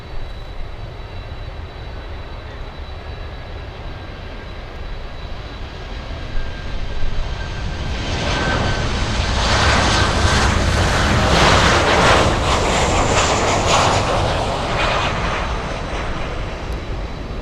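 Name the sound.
American Airlines jet arriving at Miami International Airport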